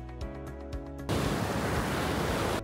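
Ocean surf at Quiberville beach in Normandy breaks in and settles into a loud, steady roar of wash that fills the rest of the clip after a brief tonal opening.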